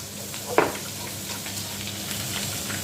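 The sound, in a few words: onions frying with pepper paste being stirred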